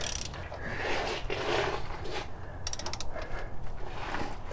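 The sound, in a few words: bolt being loosened on Jeep XJ drivetrain mount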